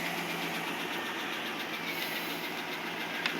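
An engine idles steadily after its first start in over two months, a constant moderately loud hum and rattle with no talk.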